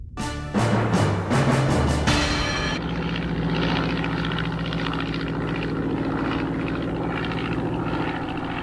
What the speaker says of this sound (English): An HE-3 Luftwaffe plane drops a number of magnetic mines by parachute over the Thames estuary